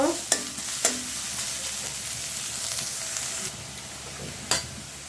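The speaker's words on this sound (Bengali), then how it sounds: "পেঁয়াজটা একটু ভাজা ভাজা করার জন্য আমরা একটু ওয়েট করব।" Chopped onions fry in a hot pan, hissing steadily up close while a utensil clacks sharply against the pan a few times.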